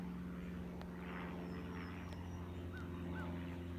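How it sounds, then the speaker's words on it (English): A small plane drones steadily overhead above a rural land tract near a highway, a faint, continuous engine hum with a few brief bird calls mixed in. "I can hear a plane about to go right over us. Small plane."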